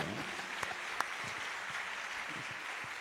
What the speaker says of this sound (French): On va applaudir encore le père, Raoul.